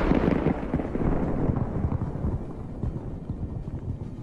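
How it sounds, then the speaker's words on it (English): A burning Russian T-80 tank's thermal traps cooking off in the fire, a dense roar of crackling, popping bursts and rumbling low blasts that slowly fade, with no voices. "The thermal traps heat up and explode, creating this beautiful effect"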